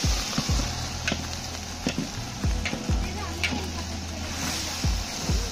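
Green chilli and ginger paste sizzles and fries in a pan while a spoon stirs it, giving a steady loud hiss with repeated scraping strokes throughout.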